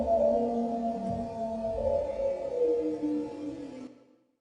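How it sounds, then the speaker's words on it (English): A supposed Bigfoot howl, recorded in B.C. and drastically slowed down, becomes a long, low, wavering moan with drifting tones like whale song, sustained for about four seconds before fading out. "if I slow it down even further, it starts sounding kind of like a whale song."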